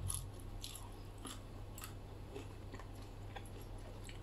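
Crunchy bites and chewing of fried three-layer pork neck: faint, close crackling ticks repeat irregularly over a low steady hum, with no talking.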